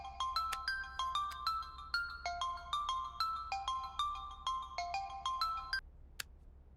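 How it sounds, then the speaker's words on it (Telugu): Phone ringtone for an incoming call in a Telugu action film, a bright repeating electronic melody of short chiming notes cycling several times over a low hum before cutting off, with no talk. "సార్ కాల్ వచ్చింది."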